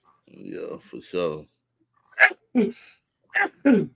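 A single sneeze bursts out after someone speaks briefly, followed by a couple of short sharp vocal sounds close to the mic.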